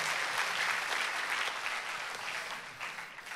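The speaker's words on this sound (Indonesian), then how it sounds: "boleh kasih tepuk tangan dulu yang meriah buat Tuhan." Church congregation applauding warmly, a dense continuous clatter of many hands that holds steady and then tapers off slightly, with no talking over it.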